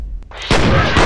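Pistol fire in the shooter game F.E.A.R., a loud close blast that erupts halfway through and rings out with a heavy booming tail, no talking.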